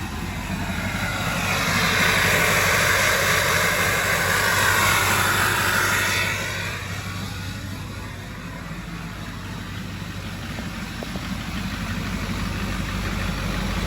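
An LBZ Duramax diesel truck engine idles steadily after new parts were fitted, a loud, close, continuous rumble with a faint whine that swells briefly and then settles back to an even idle, with no one talking.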